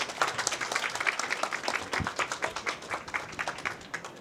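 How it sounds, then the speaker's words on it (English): An audience claps in a round of applause welcoming Taiwan's Deputy Minister of Economic Affairs at a startup pitch event, with distinct, fairly close hand claps forming a brisk, uneven patter that carries on for several seconds. "Let's welcome a round of applause."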